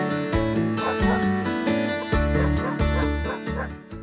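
Village dogs in the Rakhiv district of Zakarpattia's mountains bark and yip in a rapid, loud series close by, with whimpering between the barks.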